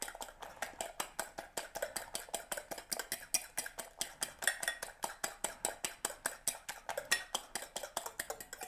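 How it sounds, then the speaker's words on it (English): Omelette eggs whisked briskly in a bowl, a fast, even train of close clicking taps that keeps going without pause. "I'll just give it a final little extra whisk."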